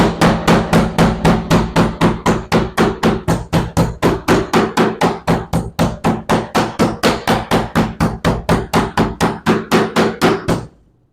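Meat tenderizing hammer pounding beef on a kitchen board, a fast, loud, relentless series of sharp thuds at a steady rhythm of about four blows per second, close up and without talk, stopping abruptly.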